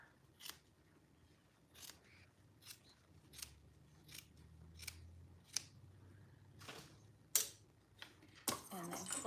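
Scissors trimming fabric at the bottom of a bag pocket, giving about eight separate crisp snips spaced roughly a second apart, close but quiet, with faint background noise between cuts.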